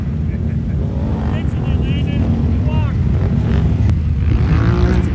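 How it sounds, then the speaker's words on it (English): Side-by-side UTVs drag racing, their engines roaring loudly and steadily throughout with wind buffeting the microphone, while voices shout over the din. "Drag racing down here."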